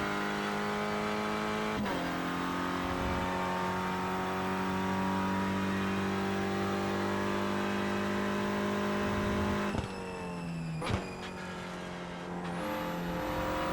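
A touring car's engine in the iRacing sim drones steadily at high revs, dipping briefly on a gear change and rising again, with a faint tire squeal near the end and no talking.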